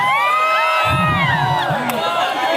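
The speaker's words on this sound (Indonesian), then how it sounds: "Coba teriakin." A crowd shouts and whoops together at a snake handling show, a loud, sustained mass of voices with a few deeper calls rising through the middle.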